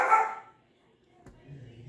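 Dogs bark close by in a home kitchen, one loud burst of barking at the start, then quiet, a brief knock and a low murmur of talk toward the end.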